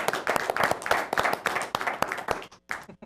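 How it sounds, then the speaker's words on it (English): A studio audience gives a lively round of clapping for a guest author on a talk show, with distinct hand claps at close range that thin out and trail off near the end. "Big round of applause also for Malia,"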